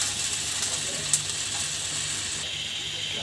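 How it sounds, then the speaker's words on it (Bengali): Chopped onions frying in hot oil in a pan while being stirred, producing a steady, close, bright sizzling hiss that runs unbroken throughout, with no one speaking. "পেঁয়াজ কুচি দেওয়ার পরে আমরা একটা তেলের সাথে নাড়তে থাকবো যতক্ষণ না পর্যন্ত বাদামি রং ধারণ করে"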